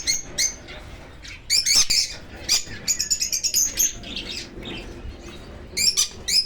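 Lovebirds at a bird market in Medina give sharp, high chirps and twittering bursts, several in quick clusters, close and loud over a faint background murmur.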